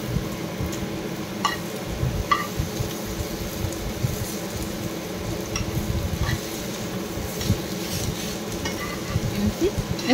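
Poi leaves coated in masala fry in a pan on a low gas flame for a crispy Odia snack, with a steady, dense sizzle running throughout.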